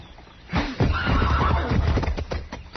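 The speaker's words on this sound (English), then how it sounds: "You hit my horse again, I'll shoot you, Ferris." A horse whinnies loudly in a Gunsmoke radio drama, with a rising, quavering neigh and a few hoof-like knocks underneath, close and standing alone without talk.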